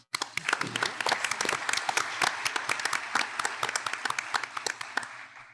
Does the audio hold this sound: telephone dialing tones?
no